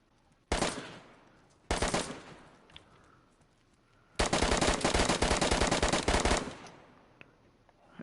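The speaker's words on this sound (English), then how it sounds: "There's just like a gunfight going on" Gunfight in the video game DayZ: two short bursts of automatic fire, then a long sustained volley of rapid shots, loud and close, with a few faint isolated pops between bursts.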